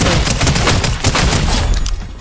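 Gunfire in the video game Fortnite, a loud, continuous burst of rapid shots packed densely together without a break, close and heavy.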